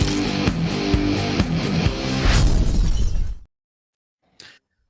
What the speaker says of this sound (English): is that just a bunch of tools being unloaded onto a floor?